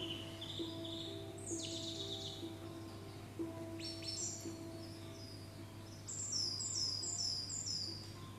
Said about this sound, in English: It's really good, the gentle music with birdsong